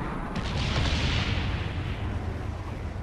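Napalm strike blasts in a shooter video game: a loud, dense rumbling roar of explosions with booming low end that stays heavy for the whole three seconds, with no voices over it.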